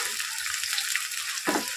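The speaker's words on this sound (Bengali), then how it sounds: "এবার একটু পেঁয়াজটা লাল লাল করে ভাজতে হবে।" Onions frying in a pan for a chicken curry, a steady close hiss of sizzling oil with a brief louder burst of stirring near the end.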